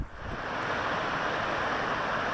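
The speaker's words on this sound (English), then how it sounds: "That's Rancheria Creek." Rancheria Creek in Yosemite rushes in a steady, loud, unbroken roar of moving water, close by and alone with no voices.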